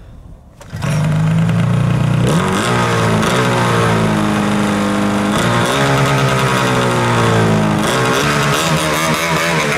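A vintage motorcycle engine fires up and revs hard for a wheelie, a loud, close, continuous roar with rising and falling pitch as the throttle opens.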